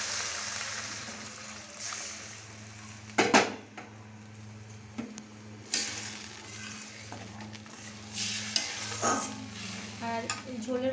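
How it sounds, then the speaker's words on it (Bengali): Warm water poured into frying spice paste for a Bengali fish curry sets off a steady sizzle, with sharp clinks and scrapes of a spoon stirring against the pan. "আমি এখন এর মধ্যে দিয়ে দেব এই উষ্ণ গরম জলটা।"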